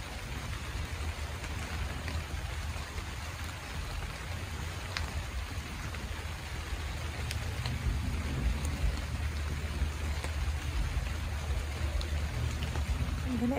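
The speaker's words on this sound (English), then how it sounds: "how do you just not love the sound of rain?" Steady rain pours down outdoors, a dense, even hiss with a low rumble underneath and scattered sharper drips, continuous and fairly close for the whole stretch with no talking.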